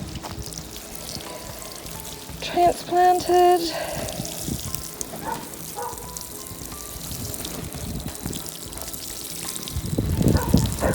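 Watering freshly transplanted garden plants, with a splashing pour and trickle of water under and between a man's nearby speech.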